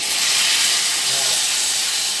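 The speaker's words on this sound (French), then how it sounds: "je vais déglacer mon caramel avec du vin blanc" Caramel in a pan hisses and sizzles as white wine is poured in to deglaze it, a loud, steady wash of steam that carries evenly through the whole moment with no one speaking.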